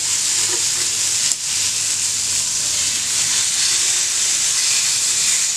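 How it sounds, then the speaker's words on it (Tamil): Food sizzles steadily while grilling in a pan over a medium flame, a continuous close, loud hiss of frying with no talk. "சூப்பராக வந்து grill ஆகுது."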